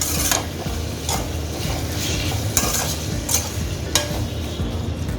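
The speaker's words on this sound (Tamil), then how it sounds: "இதையும் போட்டு நல்லா இந்த மாதிரி வதக்கி விட்டுணும்" Tomato sautéed and stirred in a pan of garlic gravy, a steady sizzle under repeated scraping and clinking strokes of the spoon, close and continuous with no talking.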